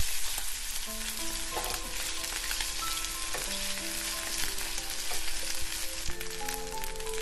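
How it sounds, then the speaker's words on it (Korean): Jeon batter sizzles and crackles steadily in a hot oiled pan, a close, continuous frying hiss with small spatters and scraping, no voices. "한입 크기로 조그맣게 부치면 더 예쁘지만 그냥 조금 넉넉하게 부쳐볼게요"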